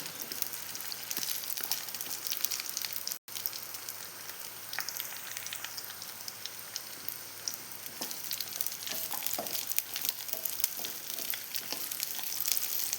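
Dates sautéing in ghee for nut laddu, a steady close hiss and crackle of frying that runs continuously, with scattered small pops and stirring scrapes.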